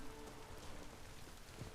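Steady rain falls in The Witcher 3, a dense, even hiss of drops on surfaces that holds at a constant moderate level throughout with no voices or thunder.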